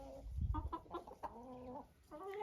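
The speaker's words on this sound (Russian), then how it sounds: "И вот такие драки будут, если переселять кур." Chickens cluck and squabble in a scuffle after being moved to a new pen. Agitated clucks and sharp squawks come in quick bursts with flapping and scuffling noise underneath, close and fairly loud.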